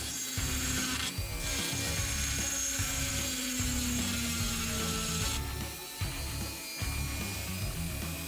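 A Dremel rotary tool grinds a controller part with a continuous buzzing, rattling whir that shifts in pitch, briefly drops in level partway through and then picks up again.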